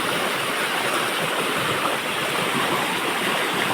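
Water flowing steadily at a crab-catching spot, a continuous loud rushing wash with no pauses and no talk.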